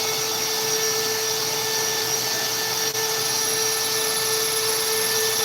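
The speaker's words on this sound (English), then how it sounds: "We're going to be drilling into 304 12 gauge stainless steel." Milwaukee Cobalt drill bits cut into 304 12-gauge stainless steel, a loud, steady high-pitched whine with a constant tonal hum and no pauses, close and alone.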